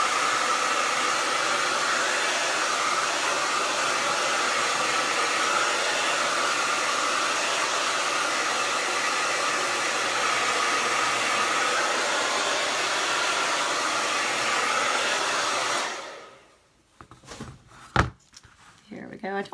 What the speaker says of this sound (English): let me hit that with the dryer right quick